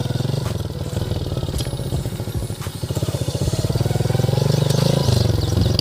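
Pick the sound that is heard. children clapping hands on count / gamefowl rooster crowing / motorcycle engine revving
motorcycle engine revving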